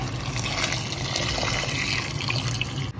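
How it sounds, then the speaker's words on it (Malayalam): Boiling water being poured into a pot of chicken for maqluba rice, a steady close splashing pour of liquid lasting a few seconds before stopping abruptly. "അരിക്ക് കണക്കാക്കിയും കൂടി വെള്ളം ഞാനിപ്പോൾ ഒരു 3 കപ്പ് വെള്ളം ഒഴിക്കുന്നുണ്ട്"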